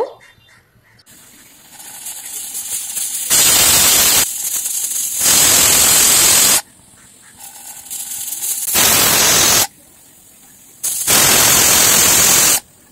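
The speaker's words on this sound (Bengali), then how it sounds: "এবার প্রেসার কুকারে প্রায় 3 থেকে 4টে মতো সিটি দিয়ে দেব।" A pressure cooker on a gas flame, cooking a spiced jackfruit dish, lets off four loud bursts of hissing steam whistles, each lasting one to two seconds, separated by softer steady hissing.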